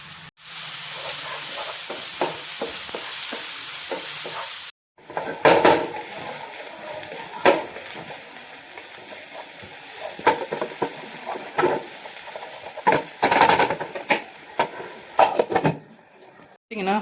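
Onion, garlic and ginger-garlic masala for mutton liver fry in a pan, a strong sizzle at first, then the pan is stirred with irregular scraping and clanking of the spoon over softer frying, with brief pauses.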